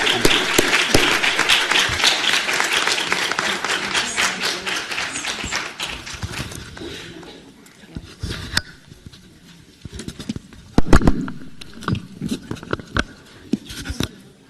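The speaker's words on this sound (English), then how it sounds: "Let's just give it a first round of applause for our panel." An audience applauds a literacy panel, with dense clapping for the first several seconds that gradually thins into sparse, scattered claps and a few last isolated hand claps.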